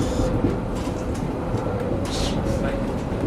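Train running on a Swiss railway in 1998, a steady close rumble and rattle of carriages rolling along the track, with faint voices murmuring in the background.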